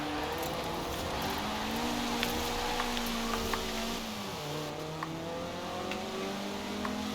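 Inline-four car engine in Forza Horizon 4 drives at a steady, sustained drone with a shifting pitch and a slight dip midway, heard up close and alone with no talk.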